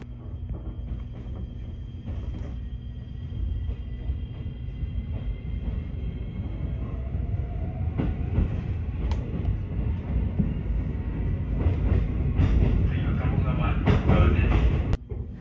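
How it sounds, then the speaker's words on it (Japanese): An oncoming train passes a JR 7200 series local train near Sanuki-Fuchu, heard from inside as a steady low rumble. The sound swells into a louder rush with sharp clatters toward the end. "対向列車の通過です。"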